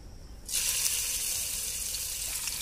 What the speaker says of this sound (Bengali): কড়াইতে তেল দিয়ে মাছটারে বাইজা লমু